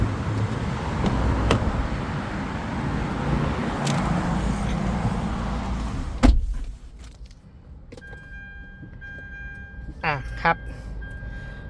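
A top-trim Mitsubishi X Force Hybrid car pulls away with a steady road rumble, a loud thump, then a quieter cabin and a short whirring motor sound, while someone talks over it.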